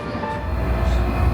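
A late-night airport express train bound for Namba in Osaka rumbles steadily with a low continuous roar from inside the carriage, no clear talk.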